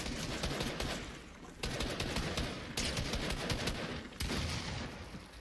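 Assault rifle fire in Fortnite during a token wager match, four loud sustained bursts of rapid shots separated by brief gaps, close and dominant, with no talk over it.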